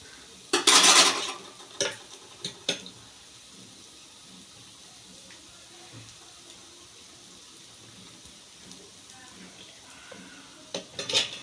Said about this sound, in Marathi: एक साईड भाजून घ्यायची व्यवस्थित